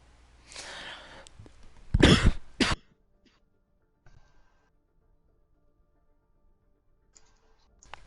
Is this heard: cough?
yes